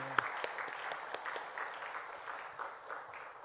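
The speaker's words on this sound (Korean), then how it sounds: "우리 환영의 박수 한번 할까요?" Applause from a church congregation welcoming guests during a Sunday service: a brief, fairly faint patter of clapping with a few sharper claps at the start, thinning out toward the end.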